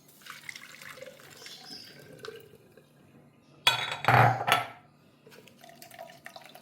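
Blended cucumber and papaya juice strained through a sieve, quiet dribbling at first, then a short loud gush of pouring liquid before it tapers to faint drips.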